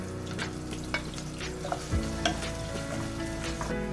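Finely sliced onions sizzle steadily in a few spoonfuls of hot oil for a garnish, with repeated scraping and clinking strokes of a spoon stirring them, close up and with no voices.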